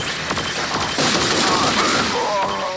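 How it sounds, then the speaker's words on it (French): Gunfire in the 2003 video game Brute Force: a dense, continuous barrage of shots and impacts, with a voice talking over it. "On me tire dessus."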